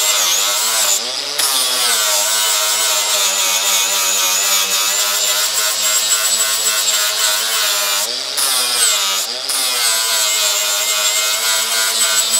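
A power saw cuts steadily through an external gate, a loud continuous high buzzing grind with a few brief dips where the blade eases off, heard close and alone.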